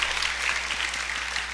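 Audience at a school graduation ceremony claps steadily, a dense wash of many hands filling a large room.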